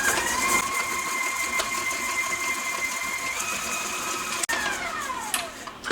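A stand mixer whirs steadily as molasses is blended into batter, a close, even motor drone with a brief click near the end and a shift in pitch as it slows.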